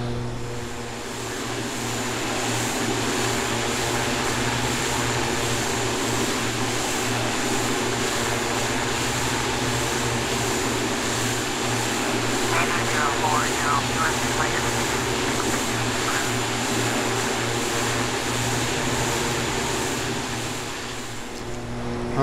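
Iris T-6A Texan II turboprop climbing out after takeoff from Norman Manley International in a flight simulator, a steady loud propeller and engine drone holding constant throughout, with a faint thin whine layered on top.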